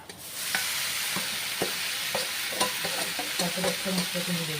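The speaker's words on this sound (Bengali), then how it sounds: "তো এবার দিয়ে দিচ্ছি এখানে ম্যাগিটা" Maggi instant noodles are dropped into a hot pan and stirred, making a steady close sizzle with repeated scraping and tossing strokes over the frying.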